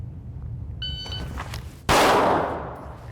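A pistol fitted with a red dot sight fires once during a live-fire drill: a short electronic timer beep, then a single sharp, loud shot close by with a ringing decay, no speech.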